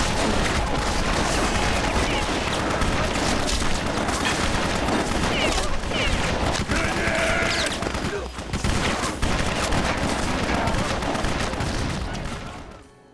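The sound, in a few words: chaotic combat sound effects from BloodRayne video game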